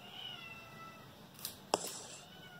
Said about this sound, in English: did you hear the cat wallowing in the background?